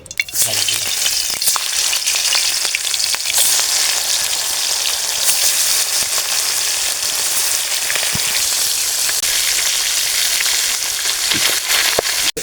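Katla fish pieces coated in salt and turmeric fry in hot oil in a kadai, producing a loud, continuous sizzle with popping crackles and occasional stirring, and no talking.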